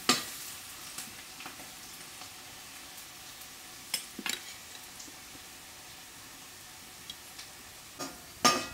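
Onions fry in a pan with a soft, steady sizzle, punctuated by occasional light clicks and taps of a utensil, fairly quiet and close, with no voices.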